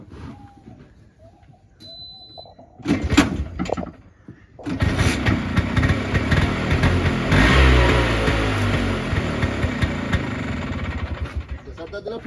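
After a few sharp knocks, a motorcycle engine with its silencer removed roars to life and revs hard, staying loud, harsh and unmuffled until it drops off at the end.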